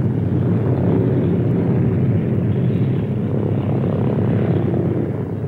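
Boeing B-17 bomber's big propeller engines running in a steady, loud, continuous drone with a deep rumbling throb, close and unbroken throughout.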